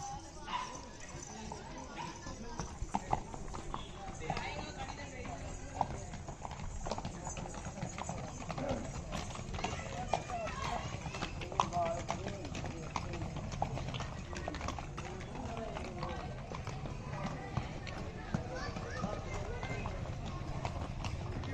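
Horse hooves clip-clop in a steady trotting rhythm at a busy rural horse fair, a dog barks now and then, and people talk nearby throughout.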